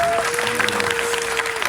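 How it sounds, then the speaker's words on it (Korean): A film screening Q&A audience claps briefly, a dense patter of many hands throughout, mixed with a steady tonal hum from the hall's sound system. "그럼 박수 한번 보내주세요."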